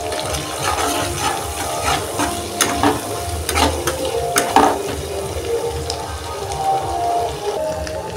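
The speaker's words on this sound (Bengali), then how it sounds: "আদা দিয়ে মশলাটা খুব ভালো করে কষে নিতে হবে।" Spice paste with ginger and coriander stir-fried in a pan, a busy sizzle broken by repeated scraping and clattering strokes of a spatula, close and loud, with no voice.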